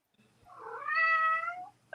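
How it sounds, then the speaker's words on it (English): A cat meows once, a drawn-out rising and falling cry lasting over a second, fairly close in a quiet room, followed by a brief chirp at the end. "Oh no, it was her cat."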